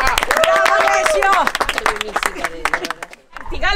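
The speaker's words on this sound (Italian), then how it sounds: "Un applauso. Alessio! Bravo Alessio!" A small backstage group claps and cheers for a person named Alessio, with enthusiastic shouts and singing-like voices mixed over brisk, uneven clapping close to the listener.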